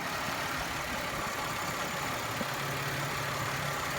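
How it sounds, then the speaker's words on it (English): A 2005 Chevy Malibu Maxx 3.5-litre V6 engine idles steadily at close range, a constant low rumble with broadband hiss and no speech. "here is the engine."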